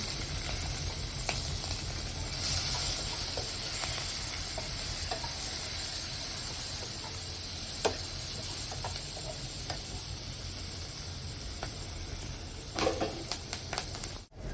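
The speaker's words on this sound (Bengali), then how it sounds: "এখন আমি দিয়ে দেবো পেঁয়াজ কুচিয়ে" Chopped onions hitting a pan after fish has been fried, a continuous soft sizzle and hiss at moderate level with scattered light clicks and scrapes, ending in a brief louder clatter.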